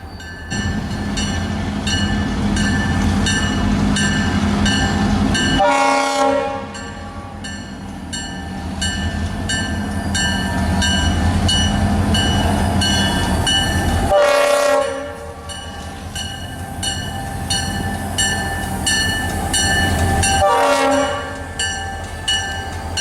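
Kansas City Southern freight train rumbling past loudly and steadily, its locomotive horn sounding in several long blasts spaced across the passage, with no voices.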